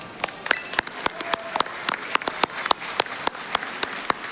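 An audience at a Summer Games Done Quick 2024 speedrun event claps at a steady, moderate pace, distinct individual claps sounding close over faint room noise.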